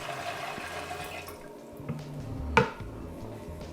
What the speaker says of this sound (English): We've also got this sugar syrup, which is going to take us up to just about 1 litre.